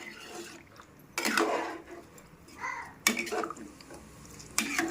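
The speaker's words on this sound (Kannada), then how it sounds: "ಇವಾಗ ಇದನ್ನೆಲ್ಲನೂ ಮಿಕ್ಸ್ ಮಾಡ್ಕೊಳ್ಳೋಣ ನೀರು ಹಾಕ್ಕೊಂಡು" A spoon scrapes and stirs rice and water through a pot for mutton biryani in a few separate strokes, with soft wet swishing and quiet kitchen background between them.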